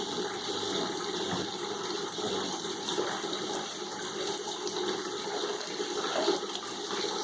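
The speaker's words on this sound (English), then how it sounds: "get that water to compress out of there" Water runs out of a sawdust and paper briquette press as pressure is slowly applied, making a steady, continuous gushing and trickling wash with no pauses and no voices.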